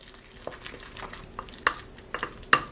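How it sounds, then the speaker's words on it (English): Egg and boxed stove-top stuffing mixture being stirred in a bowl for donut-maker batter, giving soft scraping swishes punctuated by a few sharper utensil knocks against the bowl, close and fairly quiet. "I want to give this a good stir to make sure it's all mixed together."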